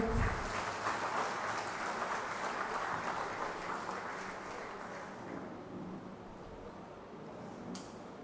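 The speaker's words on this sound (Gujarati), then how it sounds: "તાળીઓ." A crowd applauds at a farewell and honour ceremony held by the Mahuva Taluka Panchayat. The clapping is a dense, continuous wash that slowly fades, with no voices over it.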